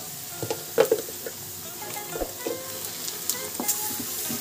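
Onions frying in a pan until golden brown for pav bhaji, a soft continuous sizzle with scattered clicks and scrapes of stirring, close by and moderately quiet.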